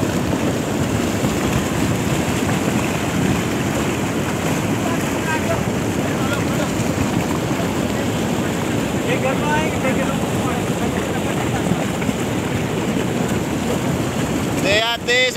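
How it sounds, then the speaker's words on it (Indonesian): Heavy rain and strong wind during the Semeru eruption in Lumajang, a dense, continuous roar of rainfall and gusting wind buffeting the microphone, loud and unbroken, with faint voices underneath. "Hujan lebat disertai angin."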